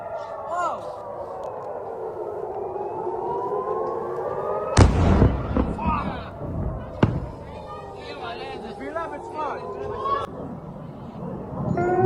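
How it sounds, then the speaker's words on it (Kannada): An air raid siren wails over the city of Safed in Israel during an Iranian missile attack, a loud rising and falling tone broken by sharp blasts and thuds, with voices in the background. "ಸೈರನ್ ಕೇಳಿಸ್ತಾ ಇದೆ."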